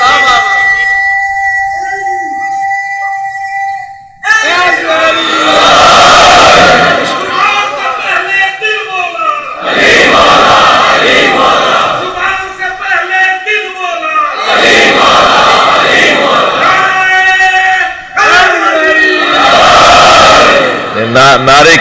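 A congregation at a Shia majlis of mourning on 21 Ramzan chanting a religious slogan in loud, repeated collective bursts, each lasting several seconds, with a voice leading between them.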